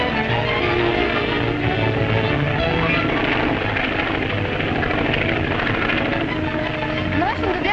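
An airplane flies with a steady, droning engine roar that fills the scene at constant loudness, alongside a dense blended soundtrack.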